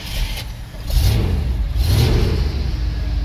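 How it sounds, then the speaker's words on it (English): After two throttle pumps and a key turn, a car engine cranks in two quick surges and then catches, settling into a close, even running rumble. "Two pumps, then you turn the key."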